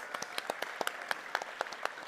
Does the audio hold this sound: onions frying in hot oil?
no